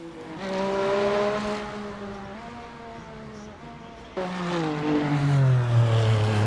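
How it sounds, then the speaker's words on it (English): Race car engine roaring in the Le Mans Ultimate racing game on the Le Mans track, a sustained droning tone that rises and falls, fades briefly, then surges back louder and drops in pitch as the car passes. "did you hear the sound of that engine as it went round there?"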